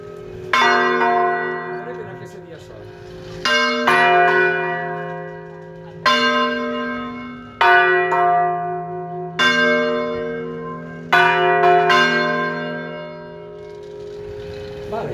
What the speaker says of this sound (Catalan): Mig vol vol dir que la campana vola, es bandeja, però no arriba a pegar-la.